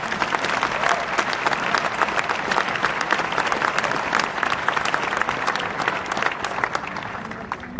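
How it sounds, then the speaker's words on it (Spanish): An audience at a conference claps steadily and loudly, a dense sustained applause from a crowd with no pauses throughout. "Les pido un aplauso para ellos."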